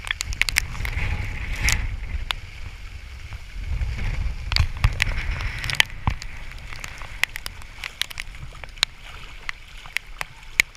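Strong wind buffets the microphone over steady rushing floodwater on a flooded Manila street near Pedro Gil, with scattered sharp crackles and knocks throughout.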